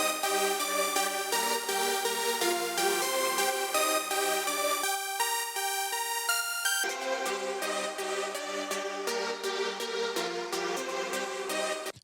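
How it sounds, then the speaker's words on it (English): A synth lead support line from a progressive trance remix: rapid, bright arpeggiated notes in a continuous pulsing pattern, close and loud, with a thinner filtered section midway before the full sound returns. "let me play them to you. So the lead support sounds like this."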